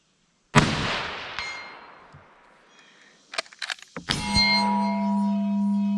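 A 1915 SMLE No 1 Mk III rifle in .303 British fires at a 220-yard target: one loud crack that fades slowly, then a faint distant clang of the hit and a run of clicks as the bolt is cycled, with a steady hum after.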